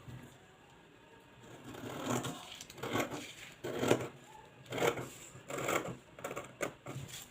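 Fabric folded for cutting is snipped open with scissors in a quiet room, a run of short crisp cutting and rustling bursts repeating roughly every second, close and moderately loud with no talking.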